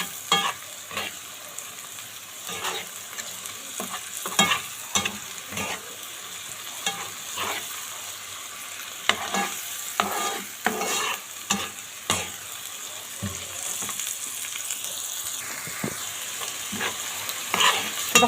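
Peppers, garlic and onion stir-fried in a pan, a steady close sizzle broken by frequent sharp scrapes and knocks of a spoon stirring throughout, with no talking.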